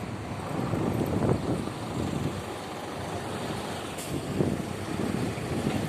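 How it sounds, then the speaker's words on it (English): A bus passes along a street in Benidorm with a moderate low engine rumble that swells twice, accompanied by wind noise buffeting the microphone. "Plenty of buses round here."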